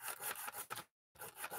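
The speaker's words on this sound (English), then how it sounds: "This is like 100 grit sandpaper, so it's pretty coarse." Coarse 100-grit sandpaper rubbed back and forth in quick, rhythmic strokes, close and fairly quiet, with a short silent pause before the sanding resumes.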